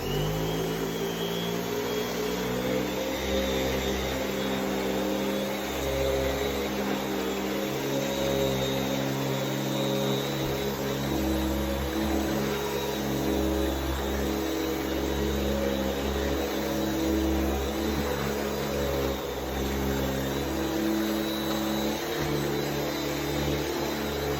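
A 1980 Eureka Model 1784 vacuum cleaner runs with its belt spinning, giving a steady, loud motor drone with a layered humming whine. The sound holds unchanged from start to finish, with no talking.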